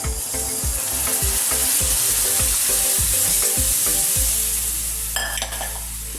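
Boiled mung beans go into a hot pan for a Gujarati mag curry, producing a steady close sizzle with rhythmic stirring scrapes that stop near the end, followed by a few metallic clinks.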